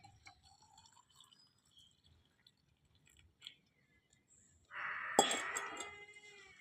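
Butterfly pea flower tea, boiled with sugar, is poured into a glass near the end: a short, bright splashing gush that follows near-silence with faint scattered clinks.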